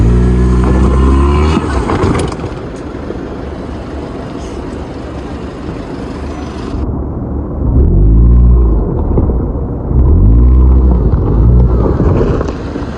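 Vehicle engine labouring and short of power, a loud rumbling drone with harmonic sweeps as revs rise and fall, heavy wind buffeting over it, with brief talk.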